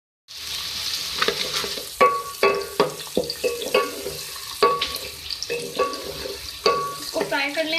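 Onions frying in oil with fenugreek and mustard seeds: a constant sizzle punctuated by a rhythmic series of sharp spatula scrapes and clanks against the pan, close and clear, with no talk.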